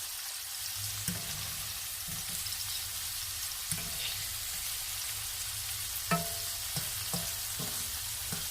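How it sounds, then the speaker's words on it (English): Shrimp in a light coating fry in a pan on a gas stove set to medium, giving a steady broadband sizzle with occasional soft clinks and stirring taps as pieces are turned, close and moderately loud, with no talking. "you want this to get a good fry to it"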